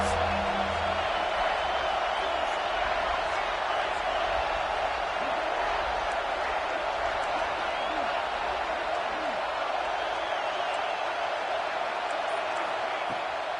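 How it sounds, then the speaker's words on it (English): A stadium crowd at an American football game roars behind the defense on a big third down: a continuous, loud, wash-like rumble of many voices that stays steady from start to finish. "Big 3rd down as the crowd gets behind this defense."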